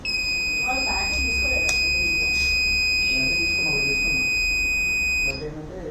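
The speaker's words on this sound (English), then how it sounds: "Arduino will trigger the buzzer for low battery, low voltage alert" A steady high-pitched electronic low-battery alert buzzer, triggered by an Arduino, sounds continuously, then cuts off abruptly near the end, with background talk underneath.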